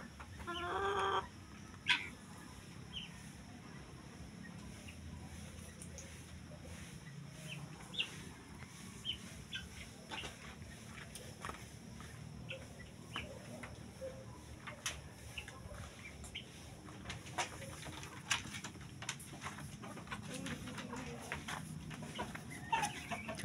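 Black Australorp and Rhode Island chickens cluck softly and steadily in a farmyard, with occasional sharper calls standing out, faint and at moderate distance throughout.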